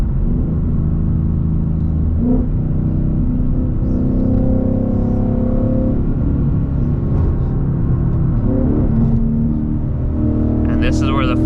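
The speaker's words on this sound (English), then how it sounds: "where you downshift the car and get it in the power band and really go hear the beautiful American V8 exhaust" A Ford Mustang's V8 engine and exhaust rumble as the car is downshifted with paddle shifters, a loud, steady low drone that swells and revs, with talking over it throughout.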